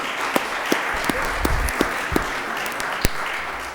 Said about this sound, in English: So round of applause to recognize them.